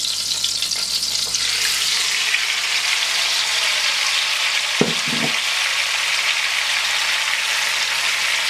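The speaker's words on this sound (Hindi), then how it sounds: "इसमें आप सबसे पहले चिकन को ऐड करेंगे" Marinated chicken hits hot oil in a pan over high flame, producing a loud, continuous close-up sizzle with a brief clatter of stirring midway and no talking.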